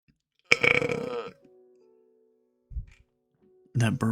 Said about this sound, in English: That burp was free.